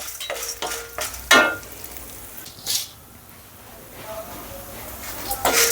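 Ten to twelve dry red chillies fry in a pan, giving a soft, uneven sizzle with a few stirring clinks and scrapes, while a person speaks intermittently.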